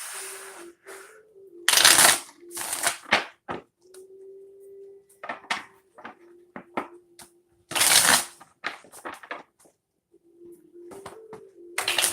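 A deck of cards is shuffled for a reading in several loud, close riffling bursts separated by pauses, over a faint steady tone.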